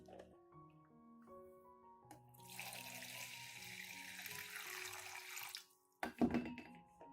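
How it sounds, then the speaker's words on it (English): Clean water is poured into the tray beneath an orchid pot, giving a steady splashing trickle for a few seconds that stops abruptly, followed by a brief clatter, over a background of soft music. "Finally, add a little clean water to the tray below."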